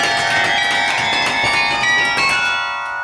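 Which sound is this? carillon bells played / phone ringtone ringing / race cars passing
carillon bells played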